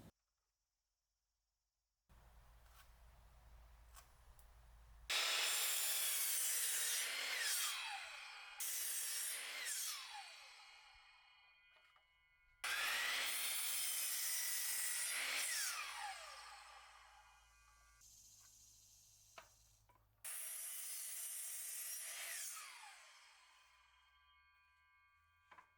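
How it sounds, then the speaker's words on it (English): A power saw cuts pressure-treated 2x4 lumber into spindles for an outdoor arbor. Three loud, close cutting passes of a few seconds each rise and fall in pitch, separated by the lower hum of the tool idling, with no talk. "it's time to cut all the spindles that will go on top of the arbors"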